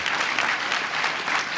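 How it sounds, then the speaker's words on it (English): Audience applause at a university State of the University address, a steady, even roar of many hands clapping together throughout, heard alone without voices over it. "Let's give them all a nice round of applause."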